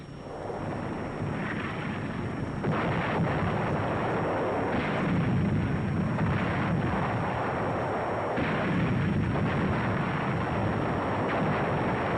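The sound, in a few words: WWII tank gunfire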